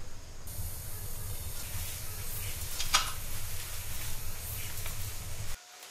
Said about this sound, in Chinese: 首先我们把锅中的水分烧干